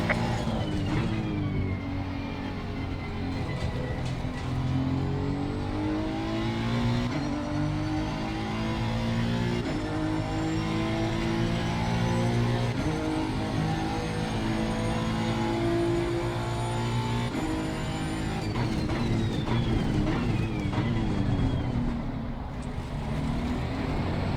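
A Honda NSX EVO GT3 race car at the Nurburgring in Assetto Corsa Competizione, its engine loud and close, revving hard and climbing repeatedly through gear shifts without a break.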